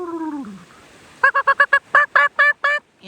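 Seabirds or geese by the sea honk in a quick run of about eight loud, close calls, preceded by a fainter descending cry.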